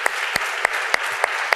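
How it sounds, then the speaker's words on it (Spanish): Audience applause for Colonel Pedro Baños at a live talk event, steady broadband clapping with sharp periodic peaks from a few louder hands, continuous throughout. "pido un aplauso para el coronel Baños"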